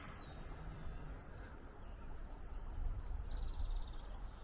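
Birds chirp and sing outdoors along a quiet residential street, with faint high calls scattered over a steady low outdoor rumble, fairly distant and light.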